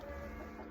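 Chickens clucking close by in a farmyard, a soft steady murmur of hen sounds filling a brief moment with no talk.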